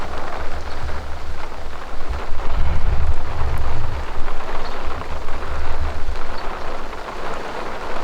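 Steady rain falling outdoors in a sunny garden, a dense even patter on surfaces with a low rumble swelling briefly near the middle, no voices.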